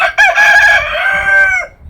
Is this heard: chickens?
yes